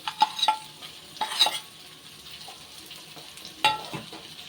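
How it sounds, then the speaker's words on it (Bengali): Potatoes and small fish pieces from near the head fry in oil, with a spatula scraping and tossing them in several quick bursts over a quieter, low crackling sizzle, and no voices. "তেলটা দিয়ে কিন্তু আলুর সাথে বেশ ভাজা ভাজা করে নিচ্ছি।"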